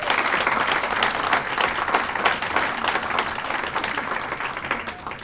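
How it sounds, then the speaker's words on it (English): An audience at a Hall of Fame induction ceremony applauds steadily for the new inductees, a dense, even wash of clapping sustained throughout without a break. "Give them a round of applause."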